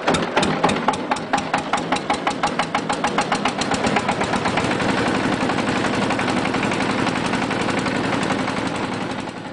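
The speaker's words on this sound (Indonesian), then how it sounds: "Arang yang sudah dingin kemudian digiling dan dihaluskan dalam mesin diesel" A diesel engine grinding cooled charcoal into powder runs loud and close, with a steady rapid chugging pulse that blurs into a continuous drone after the first few seconds.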